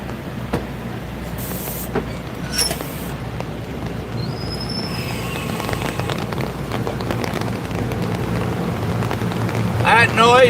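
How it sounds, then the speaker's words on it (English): Raindrops fall steadily on surfaces at an outdoor railroad museum during a Founders Day event, a dense soft patter with scattered sharper taps, accompanied by faint high whines and squeals from the rail yard. "That noise you hear is raindrops."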